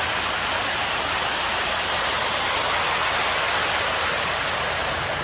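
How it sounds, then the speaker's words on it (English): A toilet at a family dairy farm flushing, a loud, steady rush of water that runs unbroken the whole time, with no voices over it. "Flushing the toilet."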